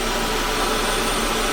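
A Dyson V12 Detect Slim cordless vacuum cleaner runs at close range, giving a steady, loud, even motor whine and rushing airflow with no pauses.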